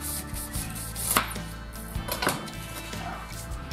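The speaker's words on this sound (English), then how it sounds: "we're going to cut the rest of our pineapple into thin slices" A knife slicing through pineapple on a cutting board: a few soft, irregular thuds and cuts, close and modest in volume, over a steady background hum.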